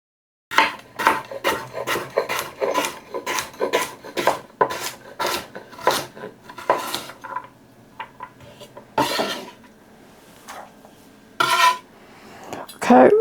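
Carrots being chopped with a knife on a cutting board for Kentucky burgoo, a rapid run of about a dozen crisp, evenly spaced chops, then a pause and a few scattered later cuts, close and clear with no talking.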